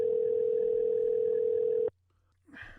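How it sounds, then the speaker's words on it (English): A telephone ringing tone while a call is being placed: one steady, unbroken tone that cuts off abruptly, followed after a short silence by a brief faint voice. "Let's make another phone call here"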